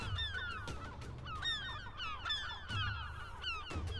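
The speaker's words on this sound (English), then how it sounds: "Amid the squawks and flapping wings, the scene seems chaotic." Gulls squawking in a crowded nesting colony in Iceland, a dense overlapping chorus of harsh, rising calls, repeated rapidly over a rumbling wind-like background, moderately distant.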